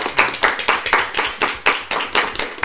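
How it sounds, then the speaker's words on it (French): Close, loud rhythmic clapping from a small group, about a dozen sharp beats in a steady pulse, fairly near and with no talk over it. "On peut applaudir."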